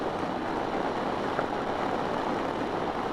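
Wind buffets a rider's helmet on a 2023 BMW F 900 XR motorcycle at speed, a constant, dense roaring rush that stays loud and unbroken throughout.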